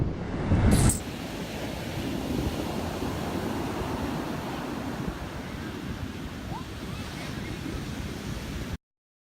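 Ocean surf at a windy beach rolls in a continuous broad wash, with a brief louder gust of wind buffeting the microphone near the start and no talking.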